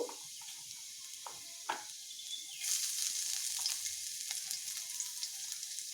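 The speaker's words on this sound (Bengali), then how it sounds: "কুচানো রসুনগুলোকেও দিয়ে দিচ্ছি। এবার আমি একটু ভালোভাবে এগুলোকে একটু ভেজে নেব" Chopped garlic with black cumin seeds fries in oil in a pan, a soft hiss that begins faintly with a few clicks and then rises into a steady, gentle sizzle, with no voices.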